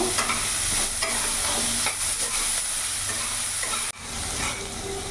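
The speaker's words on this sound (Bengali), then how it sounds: "এরই মধ্যে পেঁয়াজ কুচনো দিয়ে দিলাম।" Chopped onions sizzle in a pan over a medium gas flame and are stirred repeatedly, giving a steady close frying hiss broken by scraping strokes, with no voices.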